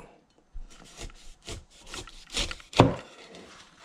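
A sharp knife saws through a fresh pineapple, making several rough scraping and rasping strokes close by, with one louder crunch near the end and no talking.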